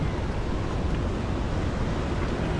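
Flooded river after the first monsoon rain in Konkan, surging just beneath a bridge, heard as a steady, loud broadband roar of rushing water with wind noise and no talk.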